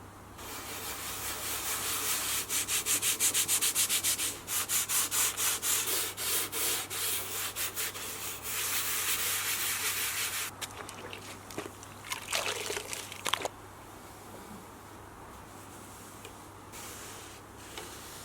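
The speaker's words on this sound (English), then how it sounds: "we're going to give this lid a clean. What I'm going to try is a bit of sieve and a scrubbing brush thing" A scrubbing brush with a bit of cleaner scrubbing a dirty lid, making rapid rhythmic rasping strokes that are loud and close for about ten seconds before fading into lighter, sporadic scrapes and wet trickles.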